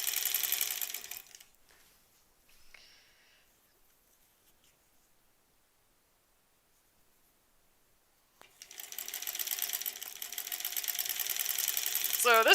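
Sewing machine stitching granny squares together for a quilt, a rapid buzzing whir in two bursts, one at the start and a longer one at the end, separated by near silence.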